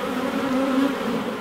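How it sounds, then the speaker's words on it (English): A close, steady hum of agitated honey bees during nuc installation, a single continuous swarm buzz without pauses. "Bees are getting a little stirred up"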